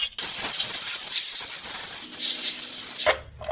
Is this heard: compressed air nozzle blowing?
yes